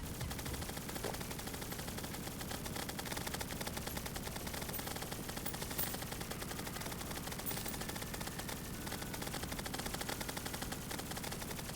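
Wingman weapon in the Terraria Infernum mod firing nonstop, a rapid, even stream of sharp shots like machine-gun fire, steady and fairly quiet throughout.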